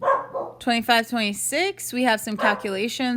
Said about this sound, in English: Excuse my dog, I'm sorry.